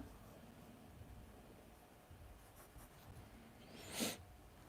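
Pen or pencil scratches faintly over paper, writing out given geometry information by hand in quiet, steady strokes, with a short burst of louder noise near the end.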